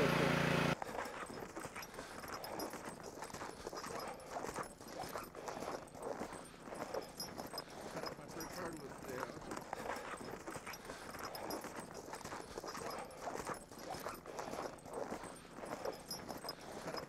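A draft horse walks during logging work in Wisconsin ash woods, its hooves giving a steady, soft clip-clop against a faint outdoor background over a long stretch, with no talking.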